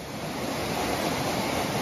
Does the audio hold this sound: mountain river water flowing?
yes